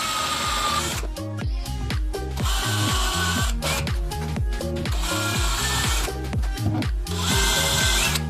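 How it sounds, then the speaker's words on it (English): A power drill pre-drilling holes in HardieBacker cement board for a ceramic tile install, heard as rapid repeated whirring bursts with short pauses in a steady rhythm, close and loud, with no voices. "First, I'm going to pre-drill some holes."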